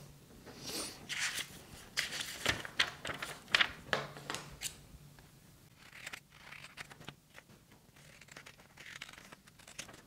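Scissors cut a paper face mask pattern up close, giving irregular snips and crisp paper rustling that come in bursts and then ease into softer handling sounds.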